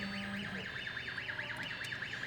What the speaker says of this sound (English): Okay, so there is your alarm and your lights there.